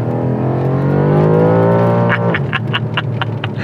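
A 2019 BMW M5 accelerating hard out of a hairpin, its engine note climbing steadily in a loud sustained roar, then broken by rapid gear-change pulses as the revs drop and rise again close by.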